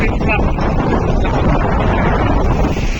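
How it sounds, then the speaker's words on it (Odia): Strong wind and rain of a Kalbaisakhi storm in Bhubaneswar, heard as a loud continuous rumbling roar of wind buffeting the microphone, with rushing rain hiss blended in throughout. "ପବନ ମାଡ଼ ଜୋର ଯା ଆସନ୍ତୁ ଦେଖନ୍ତୁ ଏବେ ପୁରା ଜୋର ଆରମ୍ଭ ହେଇଗଲା ବର୍ଷା"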